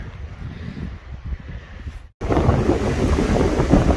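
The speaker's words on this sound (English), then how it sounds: "This is much more windy, I think" Gusty wind on the Appalachian Trail rumbles against the microphone, drops out for a moment, then returns as a louder, steady roar.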